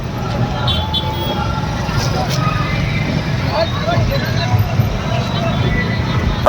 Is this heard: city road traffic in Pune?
yes